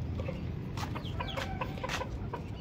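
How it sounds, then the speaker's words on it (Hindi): Bantam hens clucking in a small farmyard mini zoo, a run of short, close clucks and chirpy calls over steady outdoor background noise, with no talking. "और हमारी बेंटम फिर बाहर निकल आई हैं, ये देखें।"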